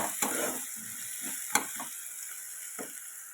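Ingredients for a homemade semolina dish sizzle steadily in a pan, with a few sharp clinks and scrapes of stirring scattered through the short stretch.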